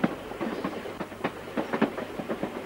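A train running on rails, steady rhythmic clickety-clack of wheels over joints with a low rumble, continuous and fairly close.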